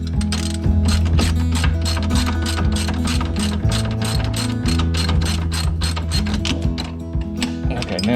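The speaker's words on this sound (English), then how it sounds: "Still gotta have both wrench and socket." A wrench and socket work loose a shock bolt on a Kawasaki Brute Force 750 ATV, giving a loud, close, continuous rapid ratcheting clatter with brief pauses as the handle swings back.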